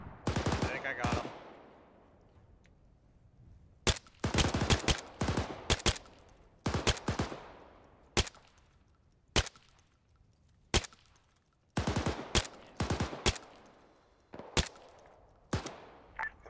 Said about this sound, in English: somebody has accurate fire on us